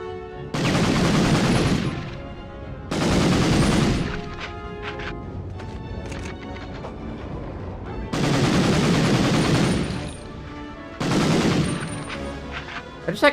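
Bursts of gunfire from the 1999 video game Medal of Honor come in four loud rapid volleys of a few seconds each, with sharper single shots and clatter between them and no talk.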